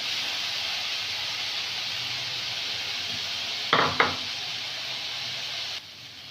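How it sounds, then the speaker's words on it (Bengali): Soybean chunks and potato frying in a pan in a village kitchen give a steady soft hiss and sizzle, broken by two sharp utensil knocks near the end before the sound drops away. "সয়াবিন আলুটা ভাজাচ্ছে"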